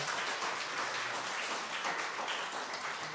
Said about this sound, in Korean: 박수해 주시면 감사하겠습니다.